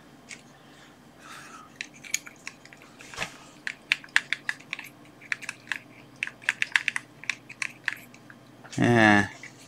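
Typing on a USB computer keyboard: scattered key clicks, irregular and fairly close, with a burst of louder noise near the end and a quiet background.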